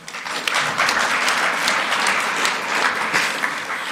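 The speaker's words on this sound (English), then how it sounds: "you deserve another round of applause" Steady audience applause at an annual summit of social partners, a dense wash of many hands clapping that holds evenly loud from start to finish with no voices on top.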